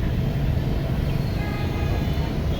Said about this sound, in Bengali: মেট্রো রেল যাচ্ছে, মেট্রো রেল আপনারা দেখতে পাচ্ছেন।